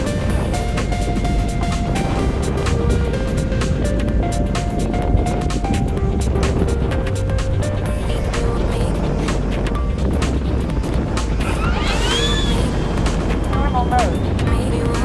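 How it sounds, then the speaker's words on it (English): An RC airplane makes a slow flyby with landing flaps down, its motor a steady drone with shifting pitch under constant wind noise across the whole stretch. "Let's do a slow flyby."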